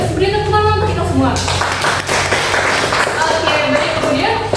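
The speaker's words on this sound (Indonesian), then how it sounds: "Beri tepuk tangan untuk kita semua." Students in a classroom break into a burst of clapping, a busy, close patter of hands lasting a few seconds, with a voice speaking over the start and end.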